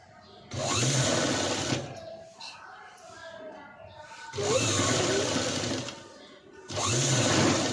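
A sewing machine stitches a padded blouse in three loud bursts, each running a second or two, with quieter pauses in between.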